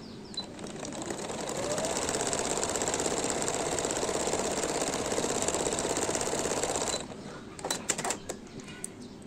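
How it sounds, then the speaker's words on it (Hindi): Sewing machine stitching the folded edge of a newborn baby shirt's button placket, a steady close whirring run for about five seconds before stopping, followed by a few clicks and handling knocks. "दूसरी साइड पे भी किनारे पे भी सिलाई लगा लेंगे"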